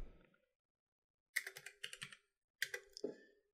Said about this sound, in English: I'm going to type in the position that I want.